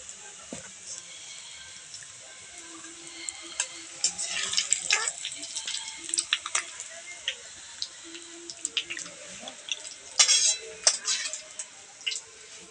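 Fried onions for chicken biryani lifted out of hot oil: a steady bright sizzle with scattered metallic clinks and scrapes of a utensil, growing busier toward the end.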